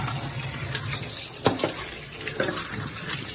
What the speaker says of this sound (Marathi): मस्त अशी धुवून घ्यायची, चांगली एकदम साफ धुवून घ्यायची